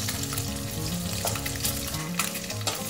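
Half-boiled, salted broccoli fries lightly in a pan, giving a continuous close sizzle with small crackles and stirring scrapes and no talking.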